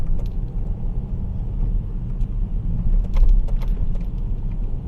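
An Audi whose chassis makes abnormal noises rumbles along on a road test, a low, steady cabin drone with faint creaks and brief rattles over bumps, some louder knocks near the middle.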